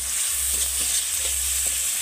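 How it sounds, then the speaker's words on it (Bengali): Cumin and coriander powder frying in a pan with ginger paste, a steady close sizzle with faint stirring scrapes throughout and no talking. "একটু জিরে গুঁড়ো, ধনে গুঁড়ো দিয়ে দেবো, দিয়ে ভালো করে ভেজে নিয়ে"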